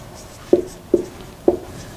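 Handwriting on a board or page: three short, distinct pen or chalk strokes land at a steady pace, each a brief squeaky scrape over a quiet room.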